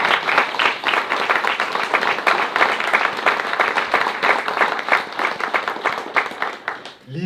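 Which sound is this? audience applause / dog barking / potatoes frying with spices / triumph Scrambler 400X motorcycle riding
audience applause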